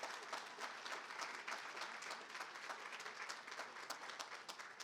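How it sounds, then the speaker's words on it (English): A room full of people applauds sponsors at a health care awards event, steady dense clapping that holds at an even level throughout with no talk over it. "Let's please have a round of applause for all of our sponsors"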